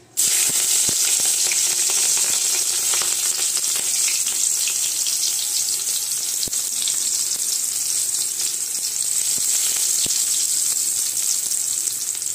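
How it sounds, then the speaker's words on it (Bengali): About three dried red chillies dropped into very hot oil for a potato dish sizzle loudly and steadily, a dense continuous hiss that barely changes for twelve seconds, with a few faint taps. "তেলে প্রথমে আমি চিরা লঙ্কাগুলো কিন্তু 3টে মতন দিয়ে দিচ্ছি"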